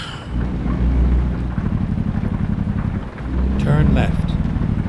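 Rain and rumbling thunder in the American Truck Simulator game, a steady wash of rainfall with low engine drone underneath and a louder thunder roll near the end.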